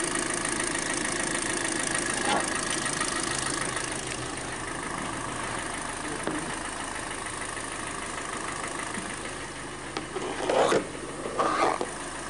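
A Kia Soul engine idles at a low, even hum, fairly quiet and steady throughout, with a few faint clicks and knocks near the end.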